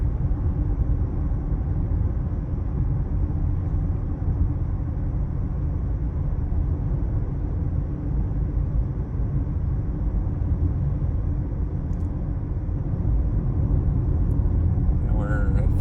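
A 2024 Subaru Outback cruising on the road gives a steady, even interior rumble of engine and tyre noise with no breaks.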